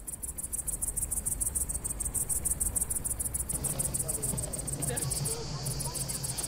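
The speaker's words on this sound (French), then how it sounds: "Ça va avec les grillons." Crickets chirp in hot weather with a dense, continuous high-pitched trill, steady and fairly close throughout, over a low background rumble.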